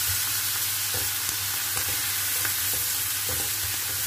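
Garlic and meat stir-fried in a pan, a steady close sizzle running throughout with soft scraping stirs of a spatula ticking over it.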